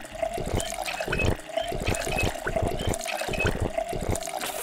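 Project Zomboid video game character drinking water, a rhythmic series of gulping, splashing liquid sounds repeating steadily, loud and alone.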